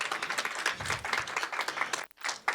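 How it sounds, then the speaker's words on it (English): Brief applause for Naomi at a UN General Assembly media breakfast on tuberculosis, a quiet burst of clapping that drops out briefly near the end before resuming. "Let's give her a round of applause."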